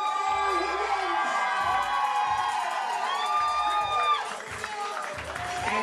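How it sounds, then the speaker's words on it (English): Wedding reception guests cheer, whoop and clap for the newlyweds, a dense, loud crowd roar with children's shouts rising above it, sustained throughout without pause. "keep your applause going, our newlyweds, Mr. and Mrs. Michael Higgins"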